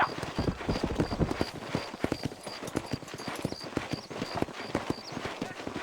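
Horse hooves clip-clop at a steady trot in the Western video game Red Dead Redemption, close and rhythmic, with a faint repeating tone above them and no speech.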